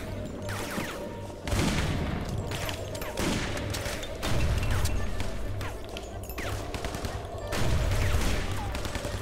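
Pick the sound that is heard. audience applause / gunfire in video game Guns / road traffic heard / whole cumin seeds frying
gunfire in video game Guns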